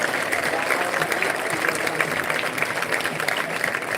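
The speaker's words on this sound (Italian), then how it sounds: "Grande applauso" A hall crowd at a Veneto volleyball celebration claps in dense, sustained applause, steady and fairly loud for the whole stretch.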